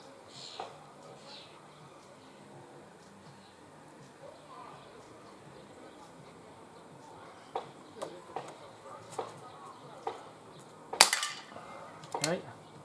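Several distant, sharp cracks from a Webley MK6 revolver fired outdoors at cans, spaced irregularly after a quiet stretch, with a louder report near the end and faint talk underneath.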